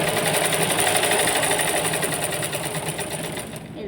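A sewing machine stitches the body of a three-piece dress with a close, steady, continuous mechanical whir and rapid needle clatter that runs unbroken for the whole span.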